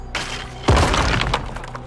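A small clay pot thrown at an enemy in Assassin's Creed Mirage smashes with one loud, close crash and a thud, followed by scattering debris rattling down over faint game ambience.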